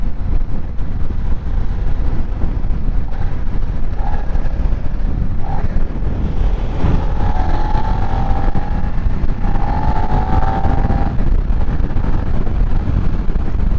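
A Suzuki SV650 motorcycle running at a steady speed, its engine drone heavily buried under constant loud wind roar across the microphone, with no talking.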